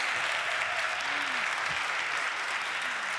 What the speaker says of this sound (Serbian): Idemo još jedan aplauz.